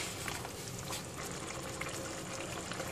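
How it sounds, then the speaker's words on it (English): Thai red curry with chicken simmering in a pot, a steady soft bubbling and gentle boiling hiss that is faint and continuous, with no voices. "I will let it simmer here until the chicken is cooked."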